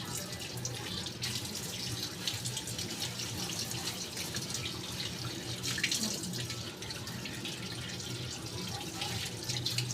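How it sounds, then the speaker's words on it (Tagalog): Market fruits and vegetables, including grapes, are washed under a kitchen tap, giving a steady, close rush of running water that splashes continuously throughout. "kailangan nating hugasan para malinis yung ating kinakain."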